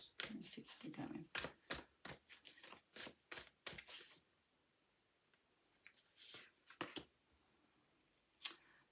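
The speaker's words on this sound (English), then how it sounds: "So let's just shuffle these ones and see how we're going." A deck of oracle cards shuffled by hand at close range, a quick series of crisp rhythmic card flicks, then a pause, then a few scattered slaps and riffles.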